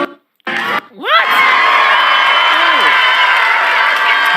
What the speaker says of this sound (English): Why did y'all clap like that for Sade?